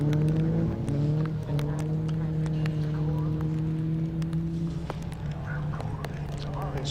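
Race cars accelerating hard out of a corner onto a straight at Snetterton circuit, a loud sustained engine drone with shifting pitch and a gear change partway through, continuous throughout.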